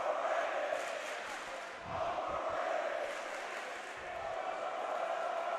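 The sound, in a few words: Dematha basketball crowd chanting overrated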